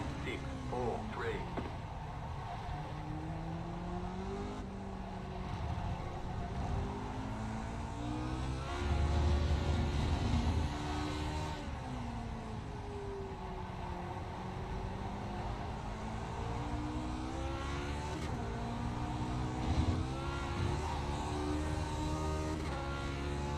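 Lotus 49 race car engine held at full throttle in iRacing on the Indianapolis road course, a steady loud droning roar with pitch sweeping up and down through gear changes, continuous throughout with a brief surge near the middle.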